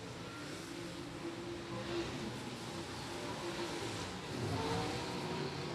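Late model race cars roar around a dirt speedway during a heat race, engines droning and rising as the pack passes at a distance, with a steady wash of crowd and track noise.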